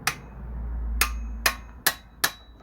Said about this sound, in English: I'm going to tighten it with a tap of the hammer